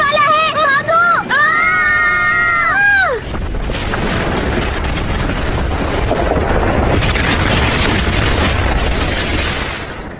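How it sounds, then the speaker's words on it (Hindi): A huge dimensional quake explosion in a Doraemon cartoon erupts into a long roaring, rumbling blast that fills the scene after a brief swooping tonal effect. "वो धमाका कैसे हुआ"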